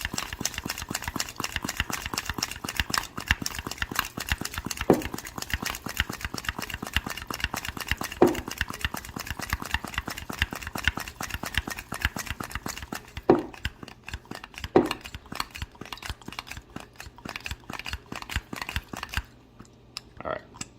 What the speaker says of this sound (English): we're gonna just pump this really quick.